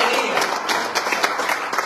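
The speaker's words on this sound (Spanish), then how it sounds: "demos palmas al Señor con gozo y alegría" A church congregation claps their hands in praise, a dense, steady burst of applause filling the room, with a voice speaking faintly underneath.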